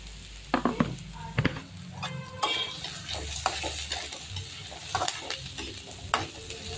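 Onion and peanuts are stir-fried in hot oil in a pan for poha, with a spoon scraping and knocking the pan in irregular strokes over a soft, steady sizzle, close by and without talk.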